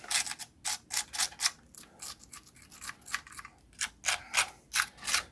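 Scraping a tarmac load out of a Bachmann JGA model railway wagon with a screwdriver: a close series of about fifteen short, dry scratching strokes in an irregular rhythm, with no talk.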